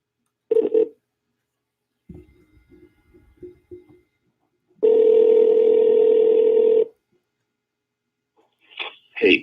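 A telephone is used to place a call: a short tone, a run of soft dialing beeps, then a steady dial tone lasting about two seconds, loud and close with no voices.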